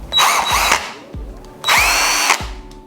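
A Parkside PABS 20-Li E6 cordless drill-driver runs in two loud, close bursts. Each run whirs up, holds briefly and winds down, with a short pause between them.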